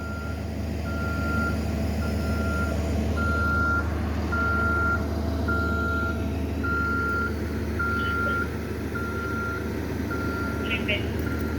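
A bus idles with a low engine rumble while reversing at a crash scene, its high backup beeper sounding in a steady, evenly spaced series throughout.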